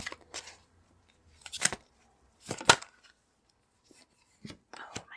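Tarot cards being pulled from a deck and handled, giving a few quiet, brief papery flicks and snaps spaced apart, with near-silence between them.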